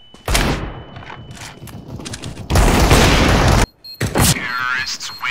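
A flashbang grenade goes off in CS GO with a loud, harsh blast that roars for about a second, surrounded by gunfire bursts and a voice shouting nearby.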